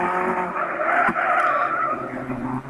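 A race car fishtails and skids in the Gran Turismo 6 racing game, with loud sustained tire squeal over engine roar and a brief sharp knock midway.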